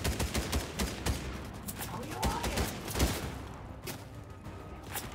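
Rapid sharp gunshots from hunting rifles in a Fortnite lobby, a dense burst of cracks in quick succession with scattered impacts, loud and close.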